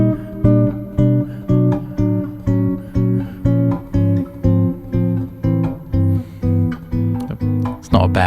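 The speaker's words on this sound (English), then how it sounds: "So if you just played one chord per beat, it would sound like this." Chords struck one per beat in a strict repeating pulse as a position-shift exercise, about a dozen even, ringing strums close and clear, each decaying before the next, with no talking over them.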